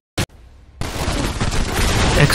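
Sharp explosion in the first-person shooter Shadow Warrior 2: a brief loud crack, a short quiet pause, then a sustained roaring blast that swells and stays loud.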